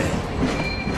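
Train passing in the video game GTA 5: a brief, steady rail rumble with a thin squeal of wheels, heard alone for about a second.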